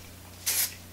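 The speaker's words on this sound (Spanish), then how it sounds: "El spray también." Hairspray sprayed onto teased hair at the back of the head, fixing hair extensions: one short, close hiss lasting about a quarter second, alone over a quiet room.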